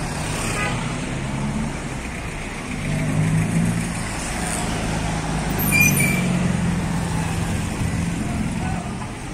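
An MPM Queen Ocha intercity bus pulls away, heading toward Jakarta and Bandung. Its engine drones loud and steady amid road traffic, swelling slightly as it moves off, with a voice talking over it.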